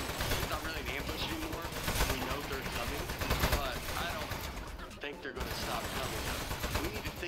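Rapid gunfire from the video game Aperture Desk Job, dense and continuous bursts of shots filling the scene at moderate loudness with game sounds mixed in, while a voice talks over it.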